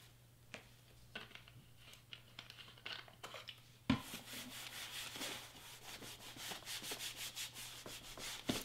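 A napkin dampened with rubbing alcohol is rubbed across a surface, at first in brief separate swipes, then in a continuous quick back-and-forth scrubbing, close and fairly soft with no talking.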